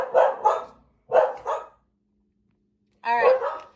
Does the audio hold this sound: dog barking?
yes